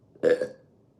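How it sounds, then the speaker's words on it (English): One short, loud, close burp from a man, a single guttural release lasting about a third of a second and then fading into quiet room tone. "I'm gonna burp."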